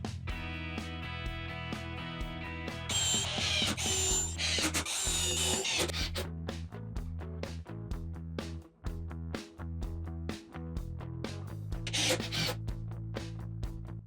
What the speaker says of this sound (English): drill some pilot holes, and then drive in more 3-inch construction screws to secure the legs